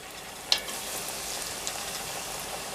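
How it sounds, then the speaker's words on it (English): Dill pickle spears fry in hot oil in a Dutch oven, giving a steady close crackling sizzle with a sharp pop or two near the start and no voices. "And then continue frying in small batches."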